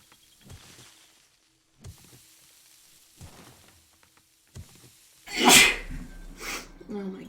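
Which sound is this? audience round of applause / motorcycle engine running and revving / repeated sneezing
repeated sneezing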